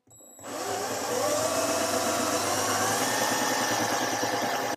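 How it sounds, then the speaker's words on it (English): A power drill fitted with a brad point bit bores into the end grain of wood on an antique tea cart, starting after a brief pause and running as a steady, loud whirring grind without a break, with no talking over it. "I can drill a true hole."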